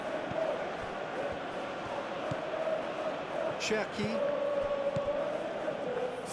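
Steady stadium crowd noise from a football video game, a continuous roar filling the background under a match commentator's voice, with a brief swell of cheering midway.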